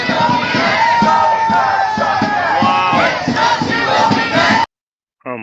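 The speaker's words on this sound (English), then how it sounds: "a huge crowd chanting this" A huge crowd in England chanting in unison, a loud rhythmic roar of many voices, then an abrupt cut to silence and a brief return at the end.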